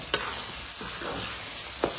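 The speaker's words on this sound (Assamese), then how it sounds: "একদম মজাকৈ ভাজি আছিলোঁ প্ৰায় 2-3 মিনিটমান সময়" Paneer curry ingredients frying in a pan, a steady soft sizzle with two sharp clinks of a spoon stirring against the pan.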